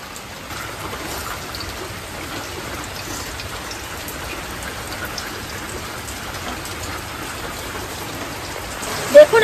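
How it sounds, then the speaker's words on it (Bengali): Steady rain falls outdoors as an even, continuous hiss that holds at a constant level, with a brief knock or clatter right at the end. "দেখুন রোজই ভিডিও করতে বসি আর রোজই বৃষ্টি নামে।"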